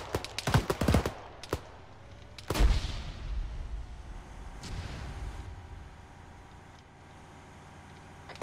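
Incoming mortar fire in the military shooter Arma 3: a cluster of sharp cracks, then a single heavy blast with a rolling low rumble that fades slowly, followed by a fainter distant boom, all moderately far off.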